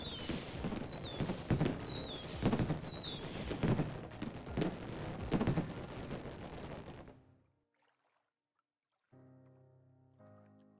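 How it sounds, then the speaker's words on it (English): Fireworks go off in the fishing video game Fishing Planet: a rapid series of popping bursts and whistles for several seconds, then near silence and a soft musical tone. "We'll set off some more fireworks."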